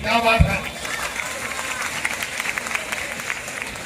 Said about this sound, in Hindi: आपकी तालियां जो हैं वो मेरे कानों में पहुंच के रस खोल रही हैं